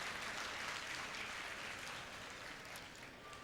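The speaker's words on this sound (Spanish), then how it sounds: "Un aplauso para ustedes que no han desistido en esa lucha" Applause during a state congress session, a dense, steady clapping from a crowd in a hall that continues evenly throughout at a moderate distance.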